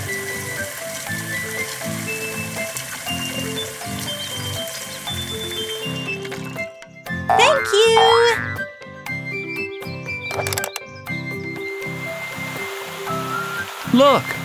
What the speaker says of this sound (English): Look, the fountain is working.